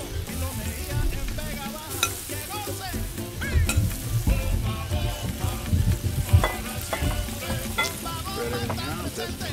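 Chorizo frying in a paella pan, a loud, steady sizzle with frequent stirring scrapes throughout, close and continuous with no talk.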